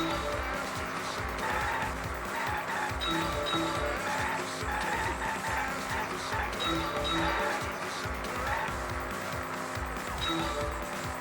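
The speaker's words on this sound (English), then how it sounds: "Now there's other cars, so I gotta watch out." Cars racing in a Danganronpa V3 driving minigame, with a steady engine drone and game music running throughout, plus occasional high chimes and possible tire squeals, all at an even level.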